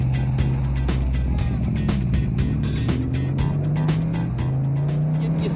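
A Cobra with a V8 engine and side pipes, a loud, steady throaty rumble that climbs in pitch as it revs, with some irregular clatter and outdoor bustle mixed in.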